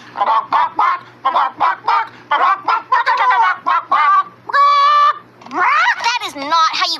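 A voice imitating a chicken with rapid rhythmic clucking and a drawn-out squawking crow, loud and close, in a cartoon scene with other voices nearby.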